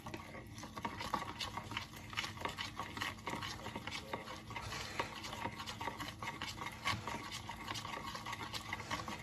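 Potatoes are tossed and stirred with oil and paprika powder in a bowl, giving a continuous wet, squishy churning with soft, rapid pattering clicks. The stirring is close, steady and unbroken.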